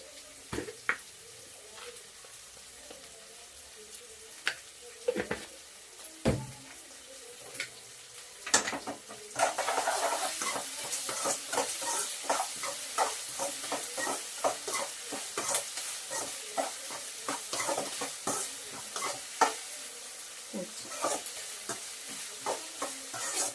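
Onions frying with salt in a pan for potato masala: quiet scattered spoon taps at first, then a louder, dense sizzle with repeated stirring scrapes swelling up and continuing to the end, no voices.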